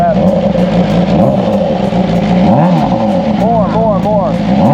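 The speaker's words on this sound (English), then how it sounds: "And then you can rev it, you can give it some rev" A full carbon BMW M1000RR motorcycle engine is revved hard and loud at close range. Its pitch rises and falls through several quick blips, and a voice speaks briefly over it.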